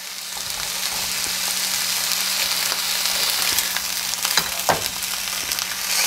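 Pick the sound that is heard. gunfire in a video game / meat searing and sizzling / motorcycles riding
meat searing and sizzling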